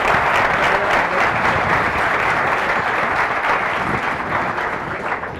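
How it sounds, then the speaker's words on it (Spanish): A large audience at a talk on quantum computing claps in sustained, dense applause, steady and loud throughout before tapering slightly at the end. "Un aplauso, por favor."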